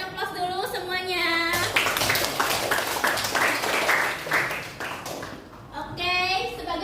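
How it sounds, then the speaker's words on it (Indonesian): A classroom of students applauds in a burst of rapid, dense clapping lasting several seconds, close and lively, with a teacher's voice heard before and after. "Berikan aplaus dulu semuanya"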